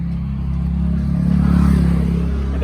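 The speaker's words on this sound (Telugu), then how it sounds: "ఒకసారి ఇంజన్ కండిషన్ కూడా చూపిస్తాను మీకు" A 2015 Tata Zest engine idling steadily nearby, a low continuous hum with a slight rise in revs midway, no voices.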